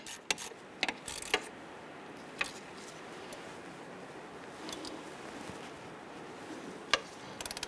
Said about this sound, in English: Let's go ahead and snug down these bolts.